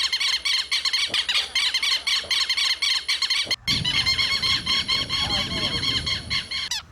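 Loud, harsh bird squawks and shrill squeals repeat continuously, several birds calling at once with a brief break midway before the raucous chorus resumes.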